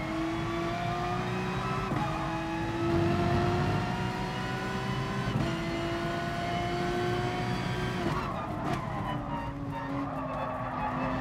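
A Porsche race car engine in GT Sport screams steadily at high revs, rising in pitch through each gear and dropping sharply at the shifts, loud and close with no talk over it.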